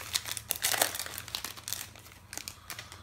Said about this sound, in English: Let's open up a pack of cards.